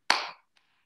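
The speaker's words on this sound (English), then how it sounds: "And you can clap your hands together." One sharp, close hand clap with a short ringing room tail, then a tiny faint tap, set in otherwise near silence.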